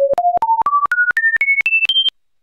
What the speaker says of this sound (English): We're going to mix those together into both ears as a sine wave for a fifth of a second.